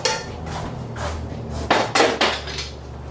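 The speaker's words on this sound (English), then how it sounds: "you might want to use a spoon rather than your hands to mix this" Spoon stirring and scraping stuffing with onion and celery in a metal bowl or pot, a series of close clattering scrapes and knocks, louder bursts near the end, with no talking.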